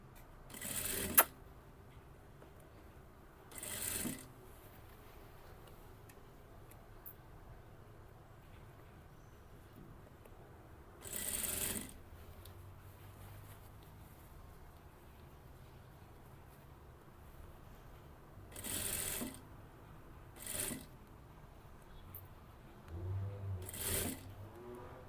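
A sewing machine stitches an asymmetric dress near its lining, running in several short, separate bursts broken by long quiet pauses.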